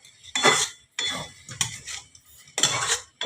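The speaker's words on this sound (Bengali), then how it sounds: "একটু হাতা দিয়ে এইভাবে নেড়ে নেড়ে দিতে হবে।" A ladle stirs boiled mung dal in a metal pan, giving four short bursts of scraping and clinking separated by brief pauses, close and clear with no talking.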